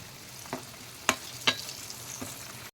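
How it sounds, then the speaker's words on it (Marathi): Snack pieces frying in hot oil give a low steady sizzle, broken by a few sharp crackles and spatters, quiet and close with no voices. "सर्व मी हे तळून घेणार आहे हा नाश्ता"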